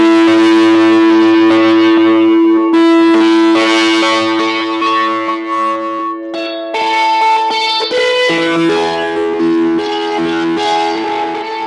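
A distorted electric lead guitar plays a melodic line on three strings for a worship song, sustained notes changing step by step, loud and alone with reverb.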